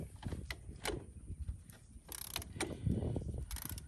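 A bolt on a Polaris Ranger 500's front bearing assembly is tightened by hand, giving quiet, close metallic clicks and ratcheting taps in an irregular rhythm with no talking.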